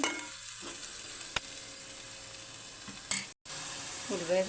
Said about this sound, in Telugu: ఉల్లిపాయ పేస్ట్ కొంచెం మగ్గిందండి. టమాటా పేస్ట్ కూడా వేసేద్దాం.